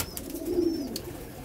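Tippler pigeons coo softly in a loft, a low murmuring call close by with faint chirps over quiet background noise.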